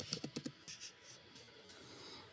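Fingers tap a computer keyboard in a quick burst of several sharp clicks, then a few softer keystrokes, faint and close, with no talking.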